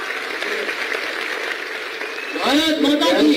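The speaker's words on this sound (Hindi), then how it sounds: "जोरदार तालियां।" Audience applause at an anniversary celebration of a community association, a steady wash of clapping that runs for a few seconds before voices and cheering rise over it.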